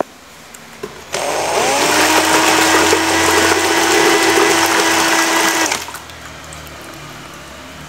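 A tool is swished through a bucket of water, a loud, churning rush of agitated water that starts abruptly, holds steady for about four and a half seconds, then cuts off, with no voices.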